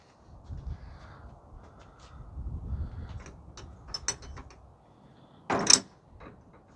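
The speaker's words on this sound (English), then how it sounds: "Got an old iron latch here." An old iron latch on a church door at St Peter's Church, South Weald, Essex, is worked by hand, giving a few light metallic clicks and rattles followed by a sharper, louder clank against quiet outdoor ambience.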